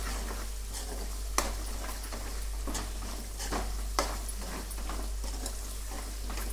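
Oil tempering sizzles in a pan for gongura chutney, a steady frying hiss broken by several sharp clicks and spatters as the pan is stirred.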